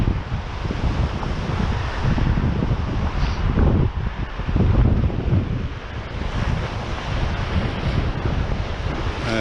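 Waves roll onto a sandy beach as the tide comes in, giving a steady, full wash of surf. Heavy wind buffets the microphone throughout, and no one speaks.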